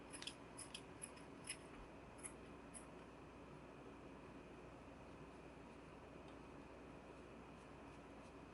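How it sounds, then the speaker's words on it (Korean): Scissors snip a few short, light cuts through crochet yarn while trimming an amigurumi bunny, the crisp clicks clustered in the first few seconds over a faint steady background hum. "가위로."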